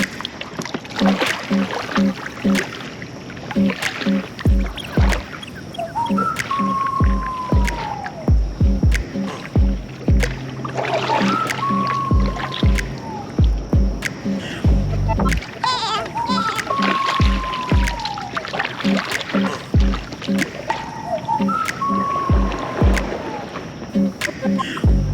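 An Advanced Elements kayak is paddled across water, with repeated splashing paddle strokes and sloshing close by in a steady rhythm. Bird calls sound in the background and a voice talks at times.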